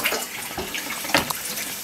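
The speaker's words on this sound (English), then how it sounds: "I'm just adding some water to the bag." Water pouring into a bag of seeds treated with hydrogen peroxide, a close, continuous splashing hiss with a brief louder gush near the middle and no speech.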